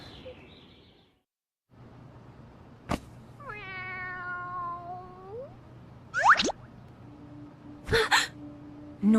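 A cat lets out a drawn-out, wavering meow, followed later by a few sharp, bright cries, heard alone and fairly close against a quiet low hum in an animated film scene.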